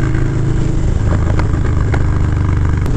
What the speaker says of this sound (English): that very distinctive sound you get from that twin cam is just beautiful